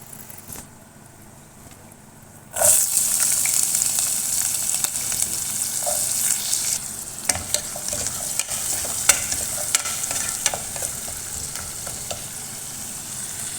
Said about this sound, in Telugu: ఇప్పుడు ఉల్లిపాయలు పచ్చిమిరపకాయలు వేసుకుందాం